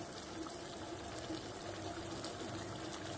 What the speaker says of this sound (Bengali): এরপরে আমি দিয়ে দেবো একটুখানি হিং, ভিজিয়ে রেখেছিলাম।